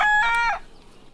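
Rhode Island Red chickens on a backyard poultry farm give a short burst of bright, harmonic clucking and calling close by, ending after about half a second into quiet.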